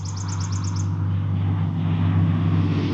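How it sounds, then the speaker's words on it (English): A quick run of high, rapid chirping notes from a warbler in a tree rings out briefly, over a steady low engine hum nearby. "There's some kind of warbler up here in this tree."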